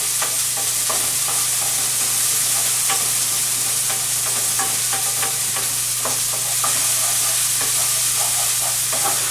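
Garlic frying in a pan for seafood pasta, with a loud, continuous close sizzle, a few scattered pops and clicks, and a steady low hum beneath.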